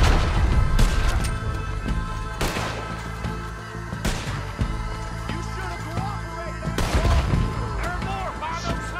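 Gunfire in Red Dead Redemption 2 during a brewery mission, several loud booming shots spaced apart over a dense background of game sound and music, with a voice talking between shots.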